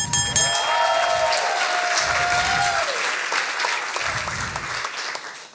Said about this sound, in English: Big applause for Anna.